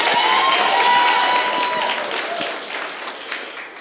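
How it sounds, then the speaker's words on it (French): A church congregation bursts into applause to encourage a woman, loud and full at first and then gradually thinning and fading toward the end, with a few louder claps standing out. "est-ce qu'on peut l'applaudir pour l'encourager?"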